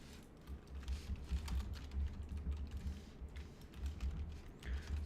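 Rapid, continuous clatter of keys on a computer keyboard, close and steady, with no voices over the clicking.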